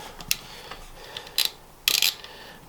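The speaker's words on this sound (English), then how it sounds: "So it's just 2 Allen key bolts in either end of the cups. And you unscrew them and it comes out." Allen key bolts on road bike bottom bracket cups are turned loose, heard as a few sharp metallic clicks and short ratcheting bursts at irregular intervals, close and fairly clear.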